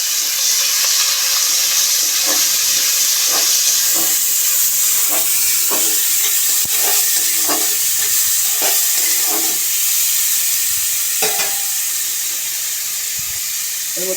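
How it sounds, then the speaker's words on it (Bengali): Chopped onion fries in hot oil with tempering spices, giving a continuous sizzling hiss. Light scraping and tapping from stirring recurs every second or so, and there is no speech. "ফোড়নটা একটু গরম হয়ে গেছে, ভালোভাবে ভাজা হয়ে গেছে। পেঁয়াজ কুচি দিয়ে দিলাম।"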